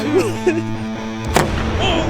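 A giant homemade potato cannon fires outdoors with one sharp, loud blast, preceded by excited voices talking.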